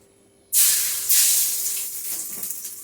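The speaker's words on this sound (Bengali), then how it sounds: "তেল গরম হয়ে গেছে, আগে একটু নুন দিয়ে দিচ্ছি, না হলে তেল ছিটে আসে" Salt hitting hot oil in a cooking pan, an abrupt loud hiss that bursts in, surges again a moment later and then slowly fades as the oil keeps sizzling.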